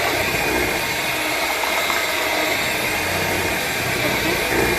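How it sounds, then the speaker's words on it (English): An electric hand mixer whips cooked beans for koki, giving a continuous bright, even whirring buzz that holds steady and close throughout. "the same thing as whipping it with hand mixer"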